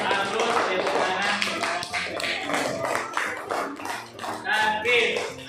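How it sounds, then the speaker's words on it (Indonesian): A primary school class claps in a religious education lesson, with quick uneven hand claps mixed with voices and some singing-like tones, fairly close and lively throughout. "Aplaus, tepuk tangan."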